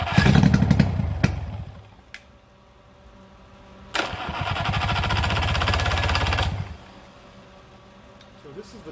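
An old two-stroke engine, worn junk, fires in a loud buzzing burst, cuts out, then restarts and runs steadily for about three seconds before stopping, close to the recorder.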